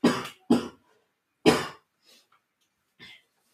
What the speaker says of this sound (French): Je vois que ça fait tousser